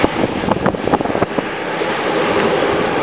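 Pacific Ocean surf and wind along Highway 1 near San Simeon, heard from the roadside during a bicycle ride: a steady broadband wash of wind and waves with a few louder gusty bursts early on, continuous throughout.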